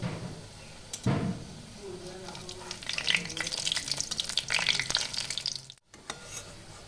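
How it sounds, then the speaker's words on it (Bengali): Chhana pieces fry in oil over low heat, a crackling sizzle that rises and thickens midway, with a clattering knock near the start and brief scraping of a utensil. "এটা হালকা আঁচ দিয়ে আমি হালকা লাল লাল করে ভেজে নেব"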